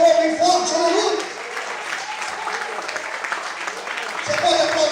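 A church congregation applauds in a dense, sustained wash of clapping that swells at the start and end, with a preacher's voice speaking over it.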